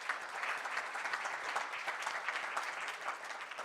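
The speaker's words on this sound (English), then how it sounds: "we can give her a round of applause as well" Steady applause from a forum audience in a conference hall in Brussels, a dense, even patter of many clapping hands lasting several seconds without pause, moderately distant, with no speech over it.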